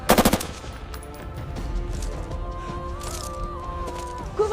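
Gunfire crackles during covering fire in a combat drill, a dense burst of rapid shots at the start, then scattered cracks over a steady background rumble with a sustained tone and another sharp burst at the end.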